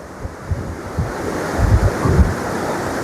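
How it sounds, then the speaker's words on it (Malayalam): Wind gusting near a waterfall area, a loud close rushing roar with low buffeting swells against the microphone. "നല്ല കാറ്റാണ് അവിടെ കിട്ടുന്നത്."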